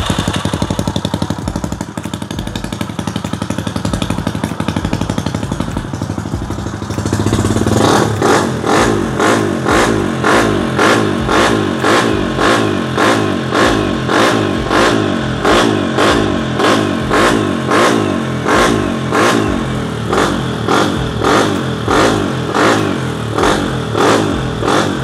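A drag-race motorcycle built in a motor shop is started and revved hard. After a few seconds of quieter lead-in it fires up, then gives loud, steady rhythmic revving bursts one after another, with no talk over it.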